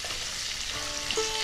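Potatoes frying in oil until reddish for a Bengali daler borar dalna, a steady soft sizzle with faint stirring, no voices.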